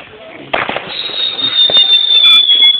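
A firework launches with a sharp close pop and crackle, then a loud, steady high whistle rises and holds as it flies, with faint crackles underneath.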